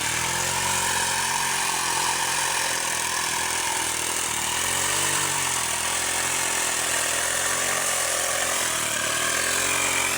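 A grass cutter engine runs loud and close while weeding around an eggplant planting, a steady droning whine with slight pitch wavering and no talking.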